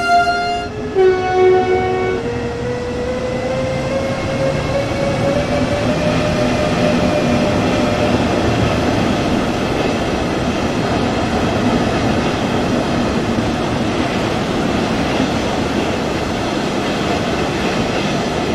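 An electric commuter train in the Train Sim World 2 Dresden route pulls away under power, a rising motor whine climbing in pitch over steady rumbling wheel noise, with a brief horn-like tone near the start; loud and continuous, no talking.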